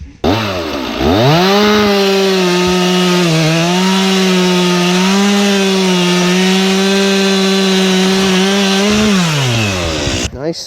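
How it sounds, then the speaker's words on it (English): Chainsaws cut through thick wood while trails for dirt bikes and ATVs are cleared on a farm; a loud, steady, high whining drone runs close by for about ten seconds, dipping briefly in pitch before trailing off. "this cleared off pretty quick when you got 3 chainsaws going"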